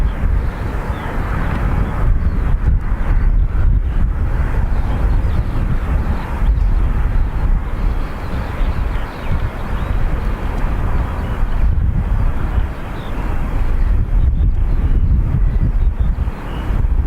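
Heavy wind buffeting a microphone at Dublin Airport, a loud continuous low rumble with gusty surges that blankets the scene for the whole stretch.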